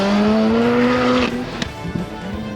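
Twin-engine Hyundai Tiburon street car at a track challenge, a rising engine whine and squealing tires loud at first, then a sudden drop as it runs off course into gravelly thumps and a fading motor.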